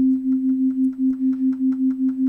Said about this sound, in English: Right now we have a sine wave.